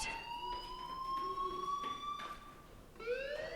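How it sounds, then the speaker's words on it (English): School fire alarm in the game Life is Strange rings in sustained electronic tones that hold steady, pause briefly, then resume, sounding faint and distant with no talk over it. "Hey, do you hear that fire alarm? That means you should be outside."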